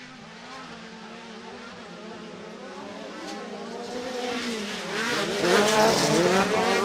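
High-horsepower 4-cylinder Super Buggy race cars at a live sportsman racing event roar around the track. The engine noise builds steadily from moderate to loud as the cars approach, with shifting pitch and a possible tire squeal.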